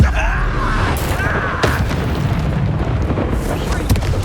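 Bombarda and Confringo spell explosions in the video game Hogwarts Legacy: dense, rumbling booms and bursts run without a break, with spell whooshes, under game noise.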